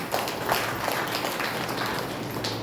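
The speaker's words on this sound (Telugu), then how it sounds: "గట్టిగా చప్పట్లు కొట్టేద్దామా" Church congregation clapping loudly together at a Sunday worship service, dense continuous applause filling the room for a few seconds.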